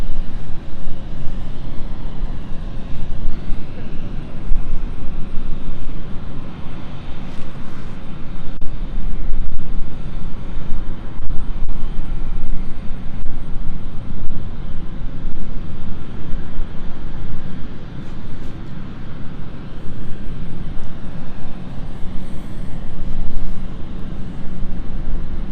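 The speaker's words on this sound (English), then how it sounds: "But as we tune in and watch the Belfast flight now take off." A Belfast-bound airliner takes off from London City Airport, its engines giving a steady, fairly loud roar that holds and swells slightly across the span, heard from a distance with no talking.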